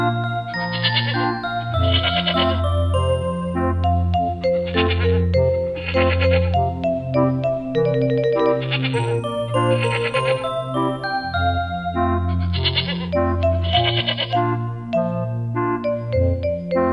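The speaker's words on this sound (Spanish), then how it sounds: "Cabra." A goat bleats loudly over and over on a farm, about eight drawn-out cries spaced a couple of seconds apart, with tinkling bell-like chimes ringing throughout.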